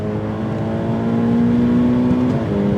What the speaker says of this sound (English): let's now give it full throttle here at the straight and see what it can do